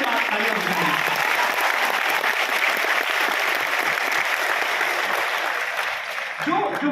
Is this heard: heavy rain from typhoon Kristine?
no